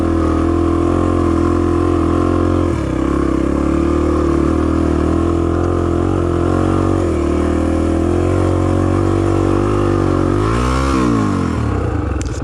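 A Honda XR250 motorcycle engine labors up a steep hill, loud and close, a sustained strained drone with small shifts in pitch and a rising rev near the end.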